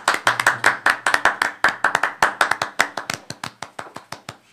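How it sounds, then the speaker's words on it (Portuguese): Close, loud hand clapping from a small group welcoming a guest onto a talk show, rapid sharp claps in an uneven rhythm that slowly spaces out and tapers off. "Uma salva de palmas."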